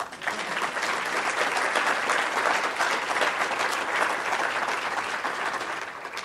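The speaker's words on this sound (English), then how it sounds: "You can clap now." Audience applause at an award presentation during an elevator pitch competition, a sustained dense clapping from a crowd that stays fairly even for several seconds and fades slightly at the end.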